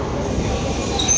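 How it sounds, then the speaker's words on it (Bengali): A train pulls out of Sealdah station, its low rumble and rattling carriage noise steady and close throughout, with no clear voices over it. "ফাইনালি আমাদের যাত্রা শুরু হয়ে গেল, ট্রেন ছেড়ে দিয়েছে শিয়ালদা থেকে।"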